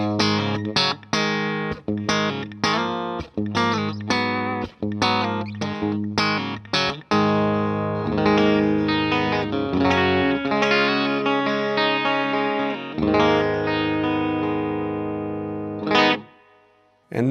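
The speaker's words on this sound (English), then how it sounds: "Here's my clean sound. I'm playing my standard Telecaster through my Vox AC30." A standard Telecaster played clean through a Vox AC30 amplifier picks out a run of short plucked chords and notes, then lets sustained chords ring and fade, close and without talk.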